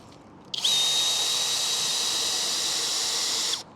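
A power drill bores a pilot hole into timber for a 3/8 by 8-inch screw on a garden arbor, one steady high-pitched whine of about three seconds that starts and stops abruptly, close and alone.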